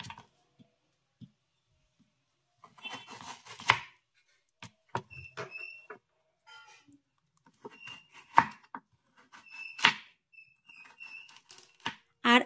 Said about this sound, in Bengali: আর এবার আমি এই আলুটিকে ছোট ছোট টুকরো করে কেটে দেব।